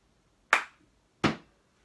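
Two crisp, close hand claps spaced about a second apart in a quiet room, played as part of a clapping game, each sharp and quickly decaying.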